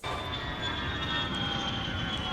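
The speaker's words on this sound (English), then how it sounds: "TNA gave the wrestler with Persian heritage a plane crashing sound effect at the start" A plane-crash sound effect opens a TNA wrestling entrance theme: a loud, steady roaring rush with a high whining tone held through the whole stretch, with no voices.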